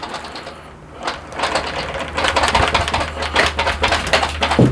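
A Dirt Devil vacuum cleaner runs with a harsh, crunchy, rattling drone that grows louder partway through, with clattering debris noise throughout and no talking.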